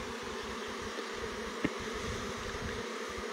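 A honeybee swarm buzzing outdoors, a continuous droning hum of many bees with a brief sharp tap partway through, with no voices.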